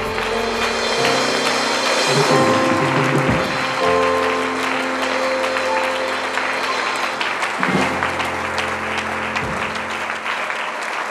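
Church congregation applauding loudly and steadily throughout, a dense wash of clapping with organ or keyboard chords sustained beneath it during a worship service.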